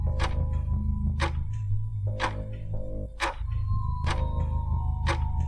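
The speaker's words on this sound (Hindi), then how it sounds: "घड़ी की आवाज़।" A household clock ticks at night in a quiet house, sharp regular ticks about once per second over a low background hum, with a soft tonal note in the background.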